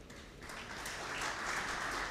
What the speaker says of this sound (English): Another round of applause for GCEO Nation Media Group, Mr. Stephen Git